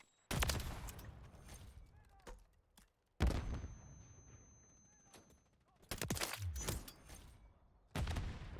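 FR Avancer sniper rifle fire in a shooter video game: four loud, sharp shots spaced a few seconds apart, each followed by a decaying echoing tail, with faint ambient game sound between them.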